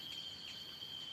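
Crickets chirp faintly and steadily in a forest after overnight rain, a thin continuous trill with soft pulsing and no voices.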